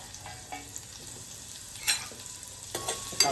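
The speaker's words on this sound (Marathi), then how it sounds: "आपल्याला कांदा चांगला परतून घ्यायचा आहे, गोल्डन ब्राऊन वगैरे" Onion frying in oil in a pan while being stirred, a low steady sizzle broken by occasional scrapes and clinks of the spatula against the pan, with no voices.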